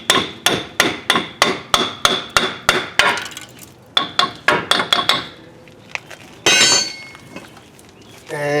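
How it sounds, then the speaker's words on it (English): A hammer whacks a Ford Expedition front axle out of its steering spindle, delivering a quick run of loud, sharp metallic strikes in steady rhythm, a brief pause, then another burst of blows followed by quieter clinks and rattling. "I'll give the axle one more whack"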